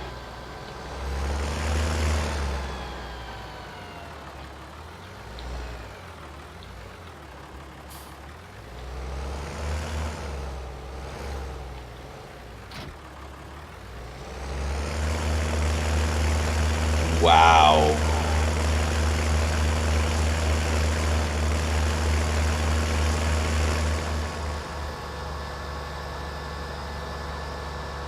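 An old tractor in Farming Simulator 19, very loud even from the cab, drones low and steady, then surges louder as it accelerates for the second half. A voice exclaims briefly over the engine.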